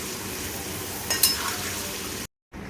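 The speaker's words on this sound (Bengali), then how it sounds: "সব সবজিগুলো হালকা করে ভেজে আমি তুলে রেখে দিচ্ছি, আলাদা করে ভাজছি" Vegetables frying lightly in a pan give off a continuous close sizzle with a brief louder spatter midway, then cut off abruptly before the hiss resumes.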